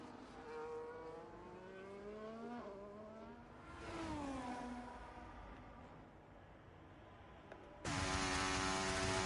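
A race car on a flying lap at Silverstone in a racing video game, its engine climbing in pitch through repeated upshifts at moderate volume, ending with a sudden louder, buzzy high-rev roar.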